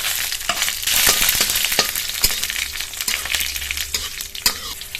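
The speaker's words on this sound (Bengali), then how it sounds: "গরম তেলের মধ্যে দিয়ে দেবো।" Dried chillies, cumin and black mustard seeds sizzle loudly in hot oil for a tempering, with a steady close hiss, popping crackles and occasional stirring clinks, no talking.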